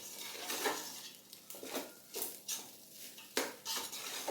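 Mint rice is stirred with a metal spoon in a pot, giving a series of close, uneven scraping and clinking strokes separated by brief pauses, with a faint sizzle between them and no speech.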